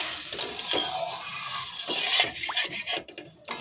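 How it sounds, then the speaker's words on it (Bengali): Stirring a Bengali lata fish curry right after water has gone into the pan, a steady hissing sizzle with soft scraping and spoon clatter near the end, close and continuous, no talking. "জল দিয়ে দিয়েছি, আবার একটু নাড়াচাড়া করে দেবো।"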